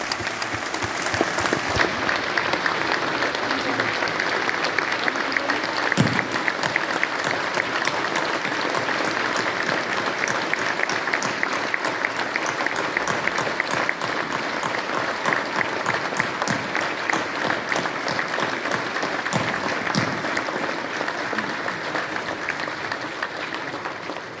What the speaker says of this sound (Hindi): कोविंद जी के सम्मान में जोरदार ताली बजाइए।